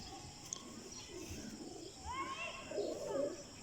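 Breeder pigeon pairs cooing softly in a loft, a few low rolling coos rising over steady background hiss and faint chirps near the end.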